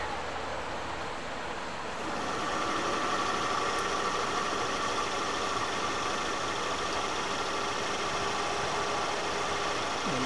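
A 12 volt VW Beetle generator running as a motor, a steady, even whirring hum that starts and holds constant for about ten seconds, with no talking.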